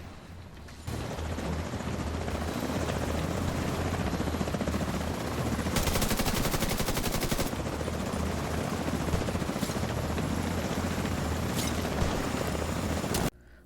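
Two helicopters sweep in within a video game, rotor thump churning steadily for over ten seconds while rapid bursts of gunfire crackle and stutter over the drone.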